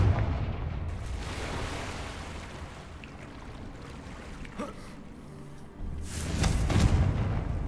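Confringo spell explosion in a Harry Potter video game, a deep rumbling boom that swells and rolls on for a few seconds over low, steady game background noise, with a second burst of rumble rising near the end.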